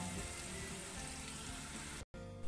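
Onions sautéing in ghee for ghee rice, a quiet steady close sizzle that runs without a break until a short gap near the end.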